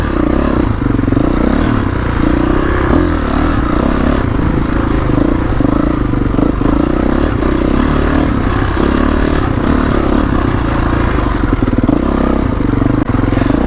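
A 2021 Kawasaki KX450X dirt bike rides a woods single-track trail, its engine loud and close throughout, revving and surging steadily with clattering over rough ground and no talking.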